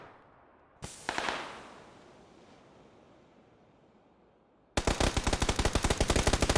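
Automatic gunfire in PUBG, with a short burst followed by a long, rapid, loud volley of rhythmic shots. Wind and surf noise fills the gap between them, and there is no talk.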